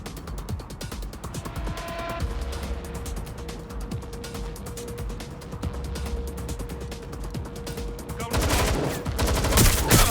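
Gunfire in the video game Watch Dogs Legion, rapid automatic bursts of rattling shots that run continuously for seconds with a sustained tone, getting louder and denser near the end, with faint talking underneath.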